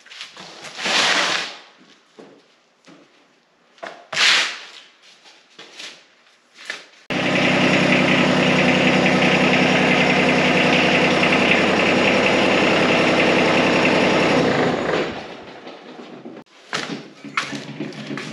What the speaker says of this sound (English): I'm gonna back the tractor back so we can get to all these bolts so we can mount that bracket.